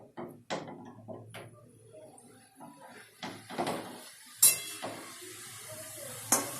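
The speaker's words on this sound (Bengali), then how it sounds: "আমি ঘিয়ের সঙ্গে খুব ভালো করে গাজরটাকে মিশিয়ে নেব।" Grated carrot being stirred into ghee in a pan for carrot halwa, with a spoon scraping and clinking against the metal in irregular close strokes, several sharper knocks among softer shuffling.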